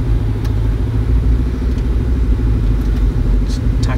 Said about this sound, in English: Let's see how the motorbike handles it.